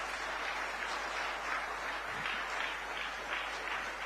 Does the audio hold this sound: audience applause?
yes